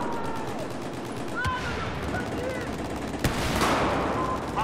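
Gunfire in the Battlefield 4 video game, aimed at an LAV on a flood-zone map, with rapid rattling bursts and a few sharp louder cracks over a steady battle din, mixed with faint game sounds.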